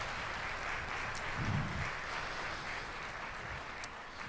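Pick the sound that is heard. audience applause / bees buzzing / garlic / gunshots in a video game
audience applause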